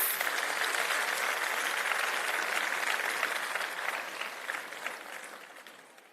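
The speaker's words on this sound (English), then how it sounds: "Please give them another round of applause." Audience applause at a school annual day celebration, a steady, dense clapping that fills the hall and gradually fades toward the end, with no talking over it.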